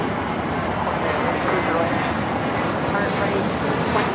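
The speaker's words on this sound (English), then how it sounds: "This is American Airlines 274 taking off to JFK on the A321." American Airlines A321 jet taking off at LAX, a continuous broad engine roar heard steadily at a distance, with a voice talking faintly underneath.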